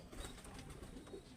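A Pakistani teddy pigeon chick, a young bird in flight training, gives faint, soft bird calls close by against a low, steady background, with no talking.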